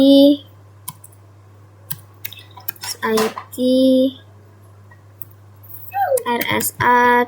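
Keys clicked while entering a terminal command on an Ubuntu client computer: a few scattered taps, then short bursts of quick clicks at close range, with talking across much of the stretch.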